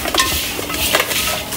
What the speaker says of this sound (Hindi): अब इसको मिक्स करो सही से